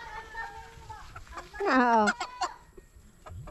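A chicken kept near a Filipino home lets out a short burst of nearby clucking and squawking, with people talking quietly around it before and after.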